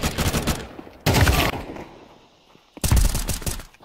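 Rapid bursts of automatic gunfire in Counter-Strike 2, three loud clusters of shots separated by a quieter stretch with fading echo, heard close and without talk.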